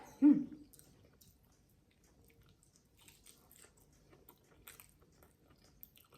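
Crispy fried Monthong durian takes one sharp, close bite at the start, followed by quiet, irregular crunchy chewing sounds that fade into soft munching.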